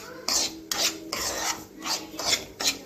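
Semolina (rava) being dry-roasted in a pan for beetroot rava laddu, a rasping scrape of the spoon through the grains repeated in steady strokes roughly every half second, close and clear with no talk.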